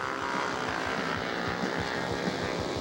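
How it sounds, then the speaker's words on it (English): Vintage 1965 Ducati motorcycle racing at an AHRMA national road race in Steamboat, its steady engine drone loud and continuous with a rhythmic, pulsing exhaust note, no talking. "Let's watch Larry Poons at 65 Ducati"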